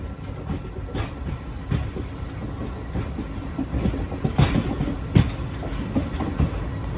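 The Circar Express train runs along the rails from Puducherry toward Kakinada, with a steady rumble and repeated rhythmic clacks of wheels over rail joints at close range, with no talk.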